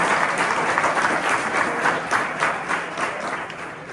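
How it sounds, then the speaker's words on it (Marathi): An audience at a lecture and interview event with a Marathi rural poet applauds steadily, dense clapping from a crowd sustained throughout and fading slightly toward the end. "जोरदार टाळ्या आपण सगळ्यांचं स्वागत करूया"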